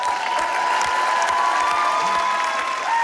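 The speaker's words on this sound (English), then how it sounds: "How about a round of applause for Kai, Joel and Eamon?" Studio audience at a television sports panel show breaks into steady, loud applause that fills the whole stretch, a dense continuous patter of many hands with some cheering mixed in.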